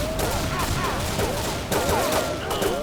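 A rapid volley of game gunfire in the shooter XSHOT, meant as shotgun blasts, with several sharp cracks and whizzing shots overlapping in quick succession at steady loudness.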